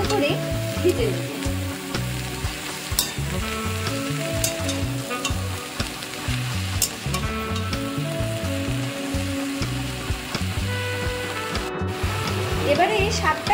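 Water spinach frying in an oiled pan with crushed ginger and garlic, a continuous close sizzle with repeated scraping and stirring strokes throughout.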